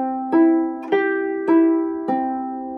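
Four plucked harp notes from a Pilgrim harp, part of a Raglan Road arpeggio, ring out one after another at an even, unhurried pace, each bright and sustained, played alone.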